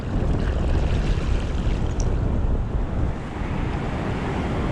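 Ocean waves wash onto a New York City beach, a loud continuous rush of surf with heavy wind buffeting the microphone.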